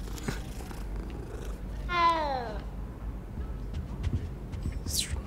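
In the video game Hogwarts Legacy, a single drawn-out cat meow rises and falls over a low rumbling background, with a faint chirp near the end.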